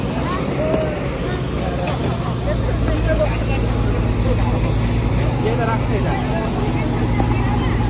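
Two concrete vibrator machines run continuously at a drain construction site, a dense, rumbling mechanical drone with voices of workers chattering over it.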